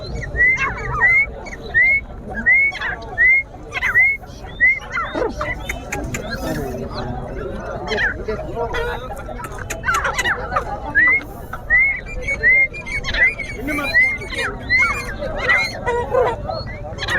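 Black francolins (kala teetar) call again and again at a busy bird market, sharp repeated whistle-like notes in quick series over constant crowd chatter and background voices.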